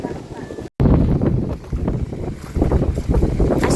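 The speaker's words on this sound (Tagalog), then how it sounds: "Lakas ang hangin." Strong sea wind gusts at Sulok Beach in General Nakar, Quezon, buffeting the microphone in loud, uneven bursts with a brief dropout, while voices are heard faintly underneath.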